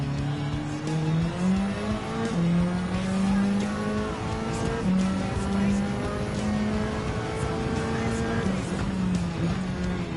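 A Nissan S15 Silvia race car in Gran Turismo 7 drives steadily, its engine whining and shifting through rising and falling revs, loud and continuous, with a voice talking over it.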